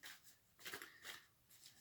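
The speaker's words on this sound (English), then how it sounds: "I'm actually now shuffling for the Four of Swords" Tarot cards being shuffled, a quiet papery riffle in three short bursts with brief pauses between, soft and close, no voices.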